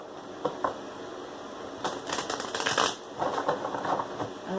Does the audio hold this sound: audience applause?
no